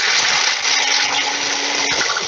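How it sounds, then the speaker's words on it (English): A Nutribullet blender whirs steadily, grinding coffee cherries with a continuous rushing, gritty roar, loud and close throughout. "Now that's a Nutribullet."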